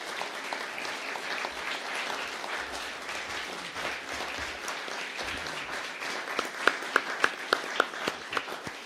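An audience applauds a family at a governor's bill signing ceremony, sustained dense clapping that thins out toward the end into a few loud, distinct individual claps close by.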